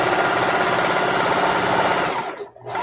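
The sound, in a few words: sewing machine sewing the edges of a pillowcase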